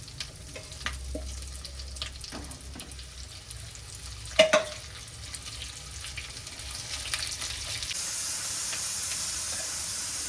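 Bitter gourd (karela) fries in a pan on a gas stove, a soft, continuous sizzle broken by scattered stirring scrapes and one sharper clatter midway, with the hiss growing brighter toward the end.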